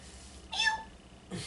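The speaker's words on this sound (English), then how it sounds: "and a kitty appears." A cartoon kitty gives a short, bright, high meow, followed a moment later by a softer, lower cat sound, both brief against a quiet background.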